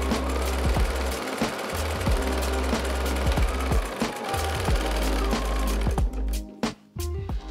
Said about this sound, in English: I have now my buttonhole stitch on, my monofilament thread on, and I start sewing my first circle on.